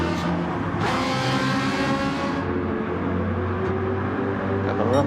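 Race car engine in Gran Turismo 7 during a racing series round at the Nürburgring, a low rumbling drone that revs and shifts pitch, steady and fairly close, with engine tones rising at the end.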